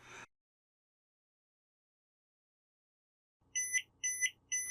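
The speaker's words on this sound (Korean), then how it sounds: "깜빡거리고 있으면서 지금 알람 소리가 나고 있습니다" A battery level meter's low-voltage alarm sounds as a run of three sharp, high electronic beeps in steady rhythm, close and loud, following a long stretch of silence.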